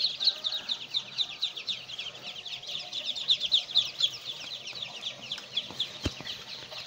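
Muscovy ducklings in a brooder lined with straw during cold weather give a constant chorus of high, rapid peeping, many overlapping chirps close by.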